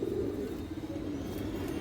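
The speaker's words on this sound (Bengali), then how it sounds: "খুব সুন্দর কৌতর" Steady low cooing from a group of old-breed pigeons, a pair among them, fills the whole stretch without pause. It is close and continuous, with no speech over it.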